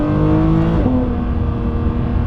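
A Porsche 992.2 GT3 Touring engine revving hard, a loud close mechanical howl that climbs in pitch and then drops as the revs fall away, with no voices over it.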